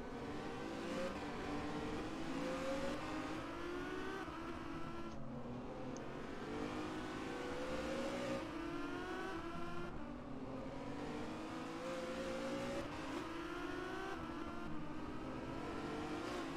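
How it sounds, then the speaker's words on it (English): Onboard a Renault Megané race car lapping the Adelaide circuit with Chris Shepherd driving, the engine revs rise and fall through the gears in a continuous close, strained drone, with a racing commentator's voice faintly underneath. "Just going on board for a lap with Chris Shepherd."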